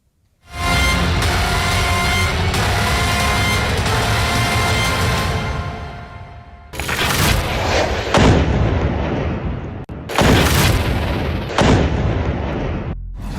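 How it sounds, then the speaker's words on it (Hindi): A loud, sustained blast from a rocket strike rumbles for several seconds, followed by a few more sharp explosive booms, all heard from a distance and without speech. "दूसरे रॉकेट ने धमाका कर दिया"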